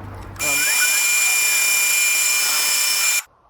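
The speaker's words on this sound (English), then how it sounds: "So I tried doing it with just the hole saw first" Power drill fitted with a hole saw cutting into metal on a trailer power jack mount, a loud steady high-pitched whine running nearly three seconds before stopping abruptly.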